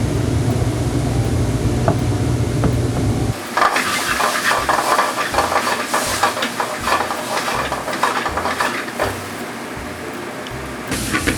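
Tomatoes sizzle in a hot pan for calabacitas, a steady close frying hiss with soft stirring scrapes that starts suddenly after a quieter opening.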